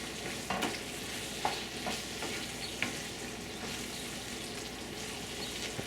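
Jackfruit and pork cooking in a pan for ginataang langka, with the browned jackfruit stirred through; a steady, close sizzle runs throughout, broken by a few sharp utensil knocks against the pan.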